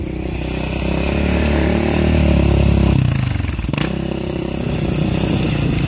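A 2007 Yamaha Raptor 700R ATV engine drones loudly and close while jumping, holding a steady rough rev that shifts and rattles around midway, with clattering impacts over the continuous engine noise.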